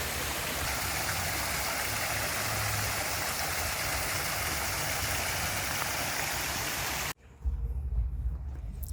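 Steady rushing of a flowing creek fills the scene, broad and continuous, before a sudden cut to a quieter, low rumbling background.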